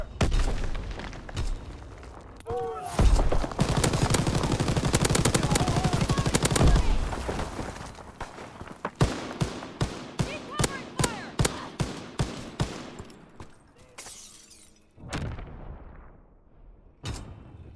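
MG-42 machine gun fire in Call of Duty WWII on the Shipment map: long loud rattling bursts, then a string of sharp spaced shots and explosive booms, with brief pauses between volleys.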